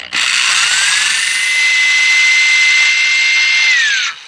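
A power drill bores a starter hole into a Hobie Compass kayak hull to mount foot-control steering, whining steadily and loud for about four seconds, its pitch climbing then holding before winding down at the end.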